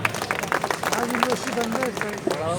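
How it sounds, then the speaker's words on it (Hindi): A crowd at a non-teaching employees' strike rally claps in a dense, steady wash of applause, with a voice and general babble mixed through the noise. "दानिश शेरवानी, दानिश सईद, तारिक सईद, इन तमाम लोगों के लिए भी एक बार जोरदार तालियां बजाएं।"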